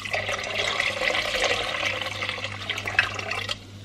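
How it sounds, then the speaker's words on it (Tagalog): Water pours steadily into a cooking pot of Filipino tinola chicken soup, a continuous close splashing rush lasting a few seconds before stopping abruptly. "Let's add a little bit more of water."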